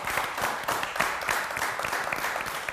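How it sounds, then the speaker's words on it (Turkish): A studio audience on a Turkish word game show applauds steadily, dense and even clapping filling the whole stretch without any talk over it. "bir alkış daha"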